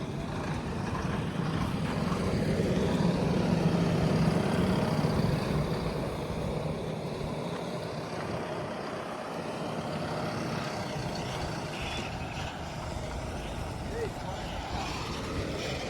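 A tipper truck's engine drones steadily as the vehicle drives and turns on a rough site road, a continuous heavy rumble with a voice talking over it throughout.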